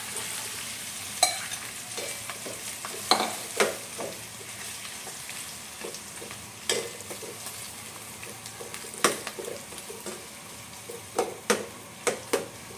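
Finely chopped boiled potatoes are stirred in a hot pan over a continuous sizzle. Repeated scraping strokes and clinks from the spoon come at irregular intervals, bunching into quicker knocks toward the end.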